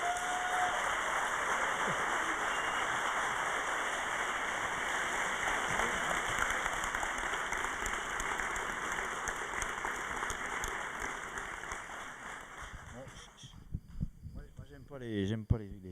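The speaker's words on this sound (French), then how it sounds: "Merci d'applaudir très fort Antoine de Maximi." Audience applause at an evening talk event, a broad steady wash of clapping held for over twelve seconds that thins out near the end as handling noises take over.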